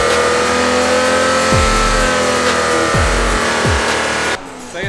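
A tuned performance car engine revved hard on test, steady high-rpm drone broken by three sharp blips and drops in pitch, cutting off abruptly near the end.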